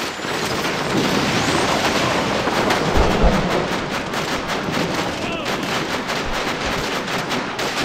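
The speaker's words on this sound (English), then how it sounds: "Love that explosion." Video game combat: dense, continuous gunfire with heavy explosive booms from grenades, loud and chaotic throughout, with a couple of deeper blasts standing out near the middle.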